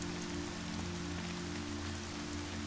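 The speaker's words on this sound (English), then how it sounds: "First, I need to dry off in the pouring rain." Pouring rain in the video game Horizon Zero Dawn, a dense, even hiss of rainfall over a low steady game-world hum.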